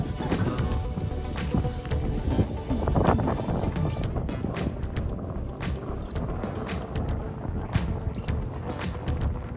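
Gusty wind buffets the microphone with loud low rumbling throughout, along with intermittent sharp clicks and rattles nearby.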